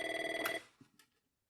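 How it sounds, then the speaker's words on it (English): An office telephone rings with a steady electronic warble that stops after about half a second. A couple of faint clicks follow in the quiet. "Phone rings."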